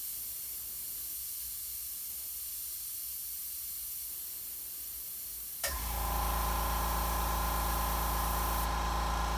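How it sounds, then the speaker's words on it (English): California Air Tools air compressor sits quiet under a faint hiss, then kicks on abruptly with a loud, steady motor drone and hiss that continues to the end. "that is a California air tool compressor"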